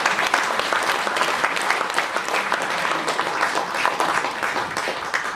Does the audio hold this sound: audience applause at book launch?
yes